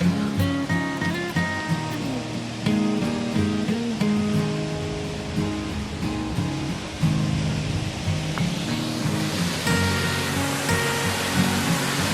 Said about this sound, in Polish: I już słychać tutaj nasz wodospad.